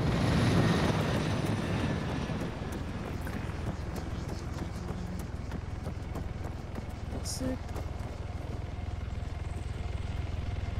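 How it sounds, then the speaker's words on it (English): A tactical chopper in ARMA 3 rumbles steadily in the background, its broadband rotor wash fairly loud and even, while someone talks over it and a short in-game chime sounds partway through. "that's a tac chopper."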